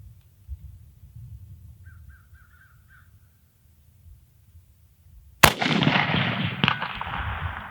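After a few distant crow caws over low rumble, a single loud tank cannon shot from an M41B in a video game booms suddenly, then trails off in a long rolling decay.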